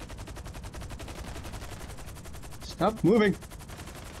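GTA V Online firefight on PC: a steady rapid train of gunshots pulses throughout at moderate level while someone shouts briefly near the end.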